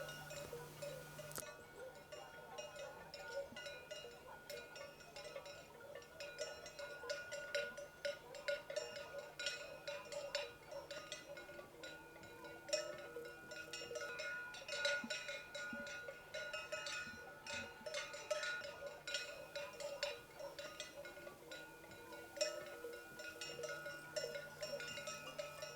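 Cowbells clink continuously from a sheep flock moving through the Carpathian mountains, a busy layered jingle at moderate distance with a steady low hum underneath and no talk.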